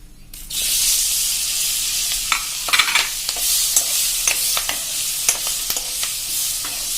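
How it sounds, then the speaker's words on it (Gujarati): Chopped green chillies are tossed into golden roasted besan in a pan and stir-fried over a low flame. A burst of sizzling follows, with repeated sharp scraping and stirring clicks from a spatula and no voices. "હવે એમાં આપણે જે મરચા સમાર્યા છે ને એ નાખી દેશું।"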